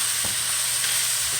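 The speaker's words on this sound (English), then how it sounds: "I'm sauteing this, and while I'm sauteing, I got the heat under this pan over here" Peppers and onions saute in a hot pan on a stovetop, giving off a steady, close hiss and sizzle. A couple of soft stirring scrapes break through the sizzle, and no one talks.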